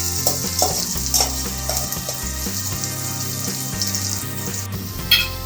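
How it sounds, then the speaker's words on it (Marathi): Onion cooks in a pan for a spicy mutton curry with a close, continuous sizzle and a few stirring scrapes, all under background music. "तर बघा इथे आपला कांदा शिजत आलाय."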